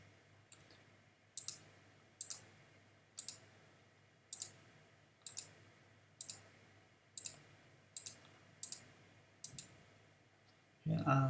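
Computer mouse clicking while working in Onshape CAD software: about a dozen crisp, close, quiet clicks, several doubled, at a steady pace of roughly one per second, ending in a louder thump.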